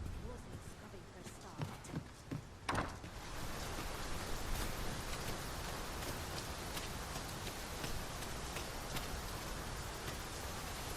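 Rain falls steadily in Dragon's Dogma 2 as a soft, dense hiss that builds after a few scattered thuds and footfalls early on, with a voice speaking over it.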